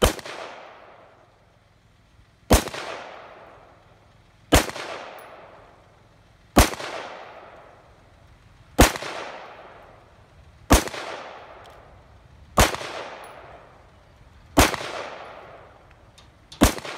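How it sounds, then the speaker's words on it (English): Rifle shots from an Aero Precision .223 Wylde upper with an 18-inch barrel, fired with a Troy Battle Mag: sharp, loud single shots at a steady pace about two seconds apart, each with a decaying echo outdoors and no talking. "We fired all 10 rounds successfully."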